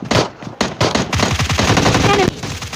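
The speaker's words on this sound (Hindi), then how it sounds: "मुझे फिर से आती है गोली की आवाज़" Rapid bursts of gunfire in the mobile shooter PUBG Mobile Lite, several sharp shots followed by a sustained automatic volley, loud and close with no talking.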